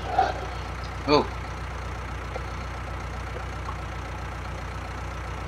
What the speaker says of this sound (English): It's a blinking old tractor